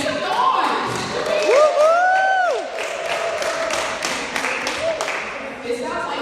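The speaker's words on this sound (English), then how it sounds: "It sounds like people will clap for y'all to make some noise." A crowd at a 2018 MAWOCC celebration claps and makes noise in a large room, steady scattered applause with cheers running beneath a loud amplified voice that speaks over it.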